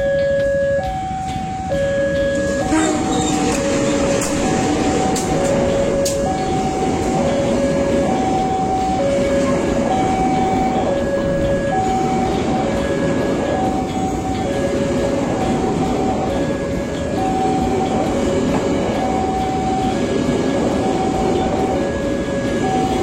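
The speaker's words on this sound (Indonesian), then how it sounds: "Dari arah barat ini akan melintas komuter lain Bandung Raya tujuan akhir stasiun Cicalengka." A Bandung Raya commuter train passes close by, a loud continuous rumble and wheel clatter with a repeating two-tone warning signal pulsing throughout, no voices.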